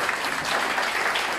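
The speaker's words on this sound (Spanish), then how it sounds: "Vamos a darle un fuerte aplauso" A short burst of steady clapping from a small crowd at a birthday party in Monte Alto, Altamira, dense and even throughout.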